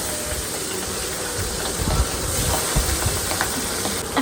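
The remaining pabda fish sizzle in hot oil in a wok, a continuous loud hissing crackle with small pops, close and steady throughout.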